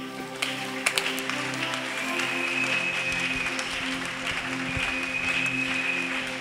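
A church congregation at a women's convention claps in sustained, dense applause that holds steady for several seconds, with a faint high whistling tone drifting through it.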